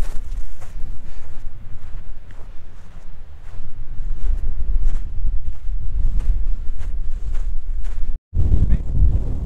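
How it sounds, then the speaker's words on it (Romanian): Strong wind gusts buffet the microphone on a hilltop near the Côte d'Azur coast, a loud continuous low roar with brief lulls and a sudden drop near the end, and a person talks over it. "Bate vântul puternic."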